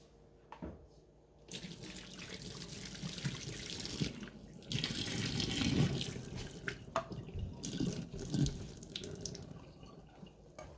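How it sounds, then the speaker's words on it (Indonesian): Hot water poured off boiled udon noodles into a sink, a gushing pour that builds and then splashes unevenly for several seconds, close and without speech. "Oke, langsung saja saya buang airnya."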